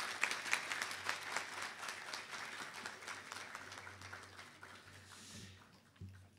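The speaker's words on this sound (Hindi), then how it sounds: "एक बार जोरदार तालियों का स्वागत होना चाहिए" An audience applauds Amitabh Bachchan at an event, dense clapping that starts full and gradually thins and fades out.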